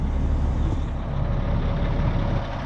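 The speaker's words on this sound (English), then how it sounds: "See that air ride come up." A dump truck sits with its engine idling in a steady low rumble while its air ride suspension builds pressure and lifts, a constant, fairly loud drone with no distinct hiss bursts and no talking.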